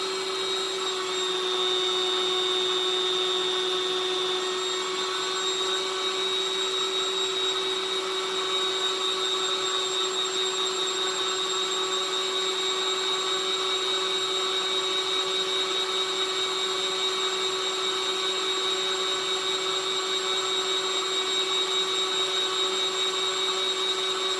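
A heat gun blows steadily to desolder a component from a 90s computer board, a constant close whooshing whine with a fixed pitch, loud and unbroken, with no talking.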